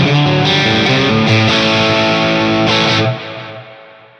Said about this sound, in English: Then I'll put a little bit of reverb on there.